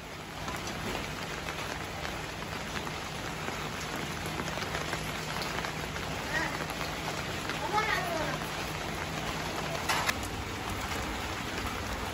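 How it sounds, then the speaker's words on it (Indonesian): Steady rain patters on surfaces in a continuous hiss, with people talking faintly in the background. "Hujan guys."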